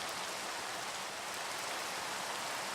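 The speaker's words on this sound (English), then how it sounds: "And some beautiful rain." Steady rain in the Minecraft video game, a continuous hissing wash of drops falling evenly throughout with no other sounds.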